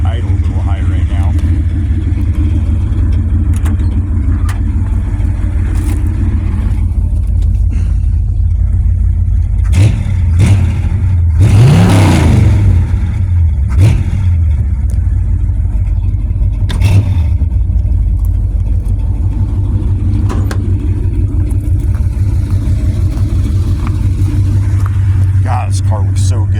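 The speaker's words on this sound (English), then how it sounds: "Put the idle a little high right now." A 1972 Chevrolet Caprice with a 400 small-block V8 idles fast and steady up close, a continuous low rumble with a brief swell near the middle, while someone talks over it.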